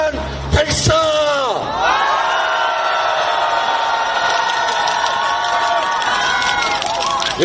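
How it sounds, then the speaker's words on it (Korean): A large election rally crowd, adults and children together, lets out a sustained loud roar of shouting and cheering for several seconds outdoors, after a brief amplified voice at the start. "우리의 미래와 우리의 내일을 위해서 함성 3초간 발사."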